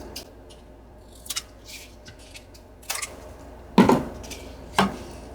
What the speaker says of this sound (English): Now we're able to trim off the extra.